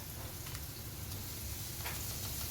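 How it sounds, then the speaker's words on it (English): Steaks laid into a hot skillet for keto Salisbury steak give a steady, dense sizzle that runs unbroken, close and fairly loud, with no voices. "So I am going to go ahead and add each of these steaks, just allowing enough room in my skillet."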